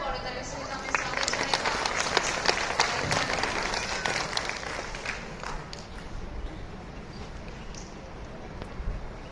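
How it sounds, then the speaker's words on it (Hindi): An audience at a block-level livestock fair in Bargarh gives a district fisheries officer a long burst of loud, dense clapping that slowly thins out, with voices mixed in. "एक जोरदार करताली सहित आम स्वागत"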